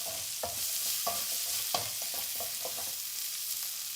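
Garlic sizzling in a hot pan alongside boiling potatoes, with steady frying hiss broken by clinks and scrapes of stirring utensils against the pan, close and alone without talk.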